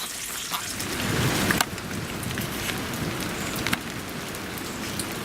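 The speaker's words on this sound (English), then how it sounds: "Well, it's pouring down." Heavy rain pours down steadily, a dense hiss of drops hitting surfaces, with a few louder splashes and no voices.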